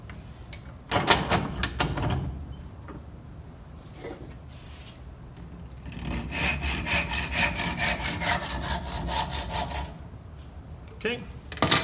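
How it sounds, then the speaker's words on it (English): A hand saw cuts through a 1/2-inch wooden dowel with rhythmic back-and-forth rasping strokes, close by, coming in short bursts at first and then a longer steady run, with quiet pauses between. "Okay, and you're going to take your 1/2-inch dowel. You're going to cut 1 inch off."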